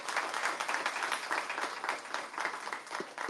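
At an international conference in Balochistan, an audience claps for two young children with a continuous, even patter of many hands that stays steady and moderately distant.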